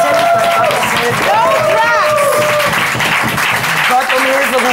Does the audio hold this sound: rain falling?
no